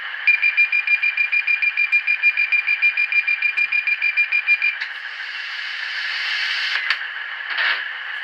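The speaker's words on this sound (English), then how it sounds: "guard to driver buzzer and reverse" A DMU train's guard-to-driver buzzer sounds as a rapid run of evenly pulsed, bright tones for several seconds, then gives way to a steadier hiss with a couple of short clicks, loud and close.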